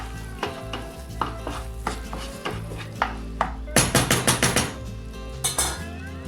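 A spoon clatters and scrapes against a metal pan while stirring semolina halva with milk, a quick burst of repeated strokes with occasional louder clanks, close up and no talking.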